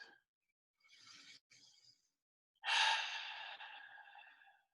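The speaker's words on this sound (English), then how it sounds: "let's take a few deep breaths together. You can let the breath out through the mouth." Slow, deep breaths let out through the mouth during a guided mindfulness exercise, two soft exhales followed by a longer, louder breath out that tapers away, close and otherwise quiet.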